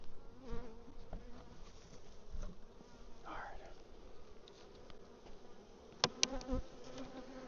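Honey bees buzz around a hive outdoors in a continuous soft drone, with a few louder passes as single bees fly close by and a couple of sharp knocks near the end.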